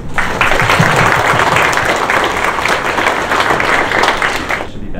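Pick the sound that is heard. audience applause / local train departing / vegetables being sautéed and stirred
audience applause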